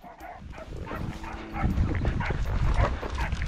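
Dogs bark and yip in a noisy outdoor scene while cattle are moved to new pasture, several animals at once, fairly close, over a steady rumbling background.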